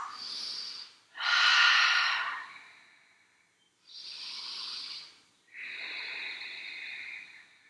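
Slow, deep yoga breaths, with long airy inhales and exhales drawn in close one after another and short pauses between them, and no talk over them.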